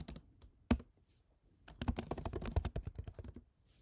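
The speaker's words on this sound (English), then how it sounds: "In here, let's type in help." Someone types on a computer keyboard: a single keystroke, a short pause, then a quick run of crisp, close clicks, all in a quiet room.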